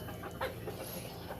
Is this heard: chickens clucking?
yes